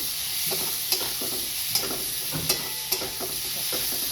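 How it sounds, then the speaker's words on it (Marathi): Tomatoes and onion frying in a pan for a Satara-style village egg thali, a steady sizzle with soft repeated stirring scrapes, close by and with no talking. "ह्याच्यामध्ये मी टोमॅटो टाकते काही टोमॅटो सुद्धा आपल्याला मऊ होईपर्यंत भाजायचे"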